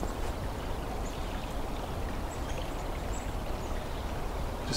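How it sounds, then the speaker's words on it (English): Thin water runs beneath the ice of a mostly frozen creek on a winter trail, a steady, soft broadband rush with no break, fairly close and heard alone. "Creek here is mostly frozen, but you can hear some of the water running."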